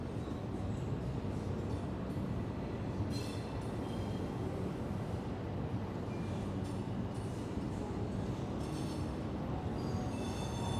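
A long freight train rolls past at night in Miami, a steady loud rumble of wheels on rails with intermittent high metallic squeals, continuous throughout with no talking.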